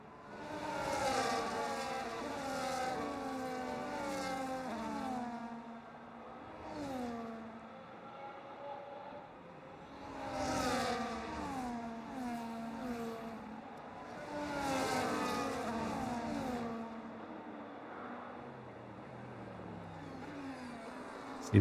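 Race cars in a racing game circuit at Belgium run in a line behind the safety car, engines droning and revving in steady waves as they pass, loud and continuous with no talk.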